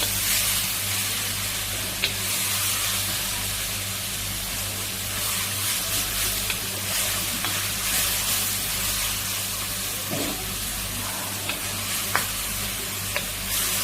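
A medium onion frying in a hot pan for empanada filling gives a steady loud sizzle with stirring scrapes and occasional utensil clicks, continuous throughout without talk.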